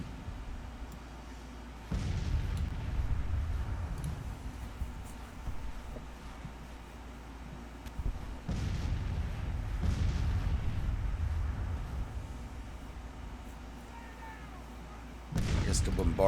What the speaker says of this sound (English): The bombardment back there already stopped.